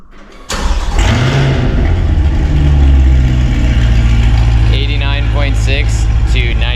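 A C8 Corvette fitted with high-flow catalytic converters fires up from warm, a sharp catch followed by a loud, steady, deep idle that holds close and unbroken to the end.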